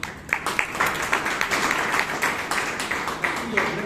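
A Toastmasters meeting audience in Bangalore gives a round of applause, a modest crowd clapping with distinct individual claps audible, moderately loud throughout.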